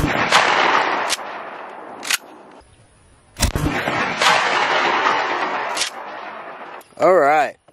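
A shotgun firing double-aught buckshot at a target 10 yards away: several loud, sharp blasts with reverberant tails, spaced irregularly over a few seconds, then a brief voice at the end.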